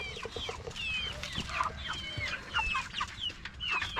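Eight-week-old Cornish Cross meat chickens clucking steadily in a close, busy flock, with overlapping squawks and chatter throughout and no voices.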